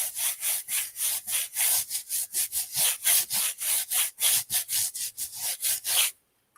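Rapid back-and-forth brushing on the bottom soles of shoes, a steady rhythmic series of about two dozen raspy strokes, close and fairly quiet, stopping abruptly at the end.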